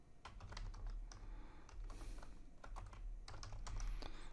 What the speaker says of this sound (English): I'm going to type in my name, and I'm going to put in some extra spaces intentionally.